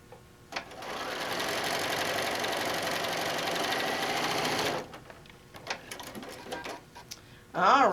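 Sewing machine stitching quilt blocks for a table runner, a steady fast whirring run of about four seconds, then scattered clicks and handling noises, with a voice briefly heard at the end.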